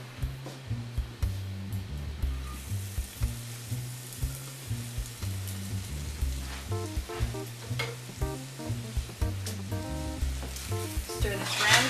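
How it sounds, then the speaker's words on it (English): Minced shallot sautés in melted butter, giving a steady sizzle and frying hiss that runs throughout. Stirring and clattering sounds come and go over a low hum, and a voice seems to speak lightly in the background. "I'm going to take the shallot over to our melted butter"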